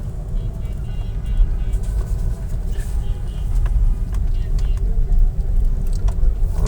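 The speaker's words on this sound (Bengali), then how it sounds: "রেডিও কলোনির সামনে জ্যাম।" Traffic jam on a city road outside Radio Colony, Savar, with a low rumble of idling cars and buses, scattered horn-like tones, and a voice talking over it.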